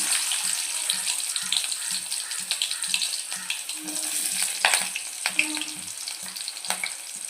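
Fennel seeds and onions frying in a pan for a prawn fry, a continuous close crackling sizzle with hissing bursts and soft rhythmic stirring taps, without talk.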